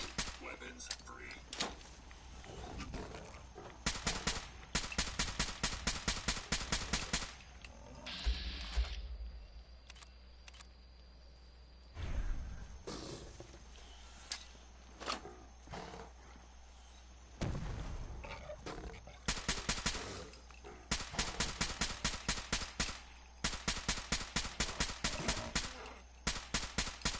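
Rapid bursts of gunfire at a fog crawler in Fallout 4 Far Harbor, sharp repeated shots in several clusters separated by quieter gaps, fairly close and crisp.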